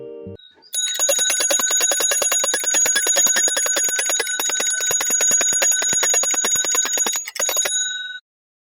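A bicycle bell rings in a rapid, continuous trill for about seven seconds, bright and metallic, loud and close, with nothing else heard.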